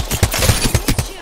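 Charge rifle shots in a tournament battle royale match, several sharp bursts about a quarter second apart, loud and close, with faint voices in the background.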